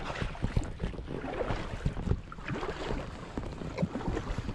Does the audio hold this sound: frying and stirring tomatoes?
no